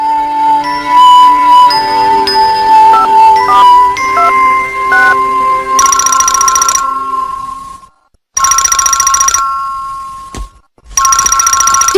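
A melodic electronic ringtone plays loudly, then gives way to repeated bursts of a trilling telephone bell separated by short pauses.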